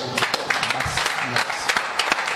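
Congregation in a French-speaking church applauding, steady brisk clapping from many hands close by, continuing evenly for a couple of seconds.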